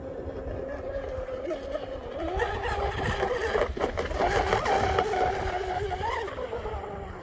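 A UL-19 RC hydroplane with a Castle Creations Hydra controller and TP 4060-CM motor runs across rough, bouncy water with a steady electric whine that climbs in pitch partway through, carried over wind and water noise at moderate distance.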